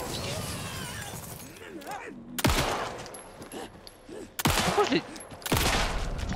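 Gunfire from Alan Wake II erupts in several sharp bursts against a monster, with loud cracking shots separated by quieter stretches of ambience and someone speaking French between them.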